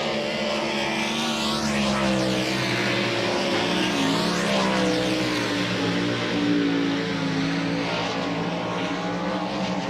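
Dirt track race cars circle Volusia Speedway Park at the DIRTcar Nationals, engines roaring continuously with rising and falling pitch as they pass, a loud sustained drone from several cars.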